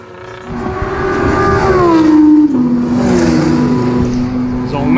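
Cars accelerating on a racetrack: a loud nearby engine revs up, its pitch climbing and then dropping as gears shift, with further rising revs and faint voices underneath.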